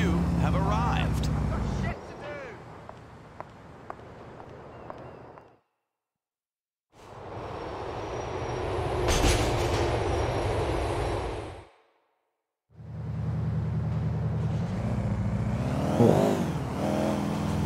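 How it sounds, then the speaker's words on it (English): A New York subway train in Grand Theft Auto 4 rumbles and roars in long loud stretches broken by brief silent gaps, with engine and rushing noise and a voice speaking over it. "it's not easy to chase a damn subway train in New York City"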